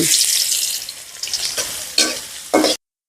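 Onions frying in the pot for a cauliflower and rohu fish curry, a bright hissing sizzle that swells in short bursts as the pan is stirred, close and fairly loud, ending abruptly.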